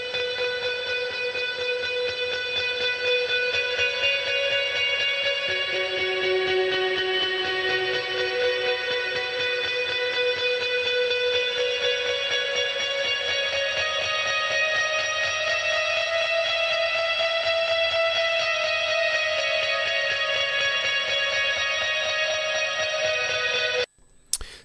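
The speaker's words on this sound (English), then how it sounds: "we also have these ethereal kind of high frequency guitars that sound like this." Shimmering, high-pitched guitars washed in heavy effects and reverb hold sustained, layered tones, loud and continuous for about twenty-four seconds before cutting off abruptly.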